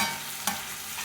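Prawns fry in a pan for a Kerala chemmeen roast with shallots, giving a short, steady sizzling hiss with one brief louder crackle partway through.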